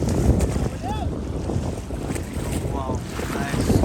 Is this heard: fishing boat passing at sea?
yes